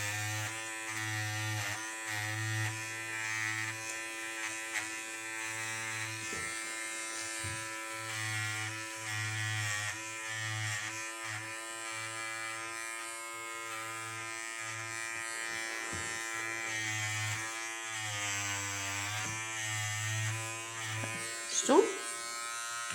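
An electric razor trims loose threads from needle embroidery. It gives a steady close buzzing drone that pulses on and off in rhythmic strokes, with a brief louder scrape near the end.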